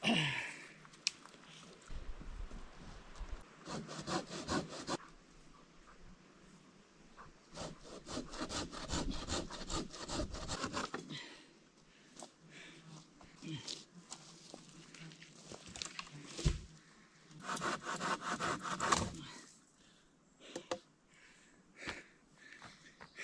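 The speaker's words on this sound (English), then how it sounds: "we'll just bust out the Silky Saw" A Silky hand pruning saw cuts through wood in quick rasping strokes, coming in several bursts with brief pauses between, close and fairly loud, in Canadian wilderness.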